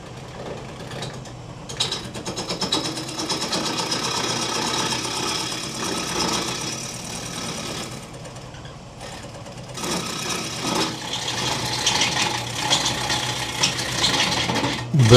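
Wood lathe spinning a turning blank at close to 1,000 RPM, a steady mechanical whir and rattle with a rhythmic clatter, briefly dropping in level partway through before resuming loud and close.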